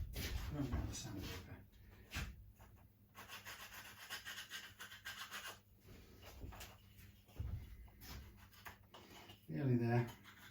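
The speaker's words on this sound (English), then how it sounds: "I'll run down the file, run down the sandpaper" A file and sandpaper rub along the edge of a vintage SG electric guitar in short scraping strokes with pauses between them, up close and fairly quiet, and someone talks over parts of the work.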